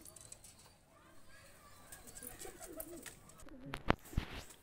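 A pair of Sialkuti pigeons coo softly and low in the middle stretch, faint against background noise, with a few sharp clicks and knocks near the end.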